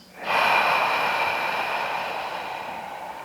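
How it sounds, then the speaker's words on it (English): A single deep breath during a yoga breath-awareness session, a long airy exhale that starts suddenly and slowly fades, close and alone without talk. "And again, deep breath in and deep breath out."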